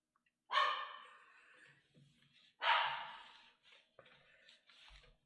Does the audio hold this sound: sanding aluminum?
no